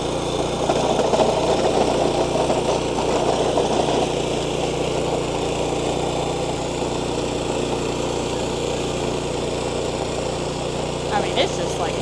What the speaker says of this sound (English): yeah, tilling dirt